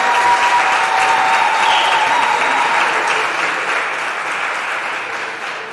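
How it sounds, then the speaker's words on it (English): Sustained audience applause at a school long service awards ceremony: dense, steady clapping from a large crowd, loud throughout and slowly tapering toward the end. "and we want to applaud you, Ms. Nugent, for the work that you have done"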